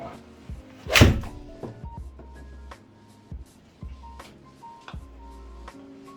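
A Srixon iron strikes a golf ball indoors with one sharp, loud, close impact, followed by faint scattered knocks and ticks in a quiet room.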